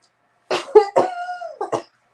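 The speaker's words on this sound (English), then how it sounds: "She's got a cough." A woman coughing close by: a burst of several rough coughs with a raspy, throaty vocal edge, loud against a silent background.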